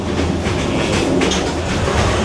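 A Vietnamese passenger train runs on its rails between Da Nang and Hue. It makes a continuous loud rumble with rhythmic wheel clatter and hiss, steady throughout, with no talk.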